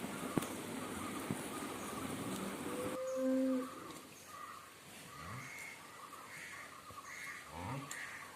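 A cow on a dairy farm with many milch cows lets out one low, clear moo, fairly close, over a hiss of outdoor background with faint birds or insects, and a few low murmuring voices in the distance.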